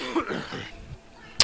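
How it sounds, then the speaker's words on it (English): A person with a cold coughs and clears their throat once or twice, short and close, followed by a brief quiet stretch and a sharp click. "I do still have a bit of a cold at the moment, so a little bit of coughing going on."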